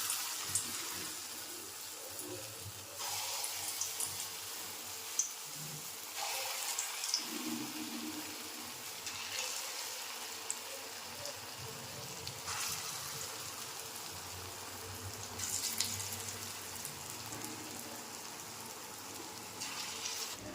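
Small lentil fritters (bora) sizzle in hot oil, a steady soft frying hiss with bubbling swells throughout, fairly quiet and close.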